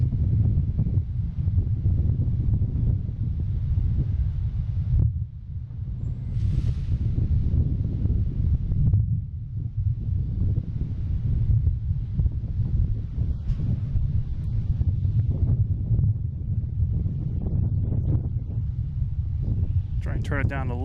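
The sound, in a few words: strong wind at Boston Logan airport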